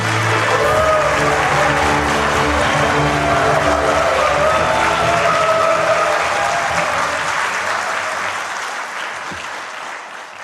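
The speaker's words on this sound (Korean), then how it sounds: "우리 정의선 회장님한테 하는 환호죠?" Ceremony audience cheering and applauding for the chairman, a dense roar of clapping and cheers that holds loud for several seconds and then slowly fades.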